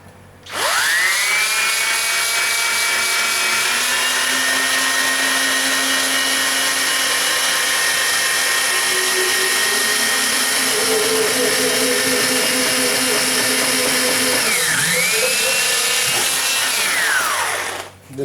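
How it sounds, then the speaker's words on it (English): A slow-speed drill spins a threaded bar steadily for the whole stretch, a constant whirring hum with a rising and falling whine near the start and again toward the end. "I'm just going to put this onto the drill, and I'm going to turn it onto a slow speed."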